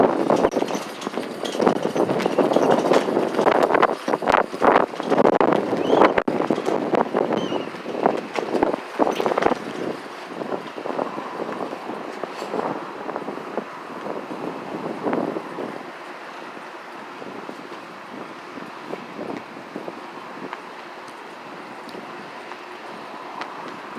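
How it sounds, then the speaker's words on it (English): Strong gusting wind outdoors buffets the microphone with loud rumbling bursts that gradually ease into a lighter, steady rush. "That's how windy it is out here."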